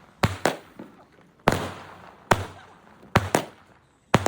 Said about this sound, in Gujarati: જો મિત્રો કેટલી મસ્ત આતિશબાજી થાય છે